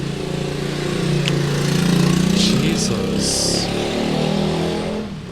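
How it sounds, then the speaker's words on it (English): Motorcycles passing outside a room, a steady loud engine drone with shifting pitch and a few higher whines as they go by, continuous for several seconds. "there is a lot of motorcycle noises outside"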